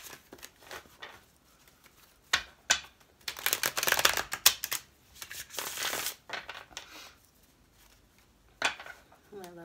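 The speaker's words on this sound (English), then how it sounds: "these cards are really easy to shuffle" A deck of tarot cards shuffled close by in quick bursts of papery riffling and slapping, with quieter handling in between.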